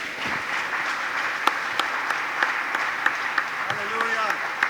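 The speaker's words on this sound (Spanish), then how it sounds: "Le vamos a dar un aplauso a este Dios de paciencia." Church congregation applauding during a Spanish-language sermon, a sustained wash of clapping with sharper individual claps standing out, while a voice speaks over it.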